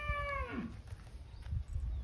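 A cow on a farm lets out one short, close moo that slides downward, followed by low rumbling background noise.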